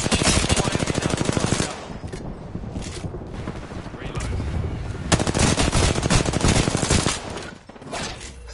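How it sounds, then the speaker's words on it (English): Heavy automatic gunfire in a PS4 battle-royale shooter, loud rapid bursts rattling on and off with brief lulls, mixed with game effects and some voice beneath. "They're shooting at me."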